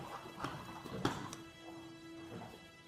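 Enigma, a nervous, agitated horse being handled by a tamer, gives a short whinny with a few hoof clops and scuffs, fairly faint within a brief stretch of stable noise.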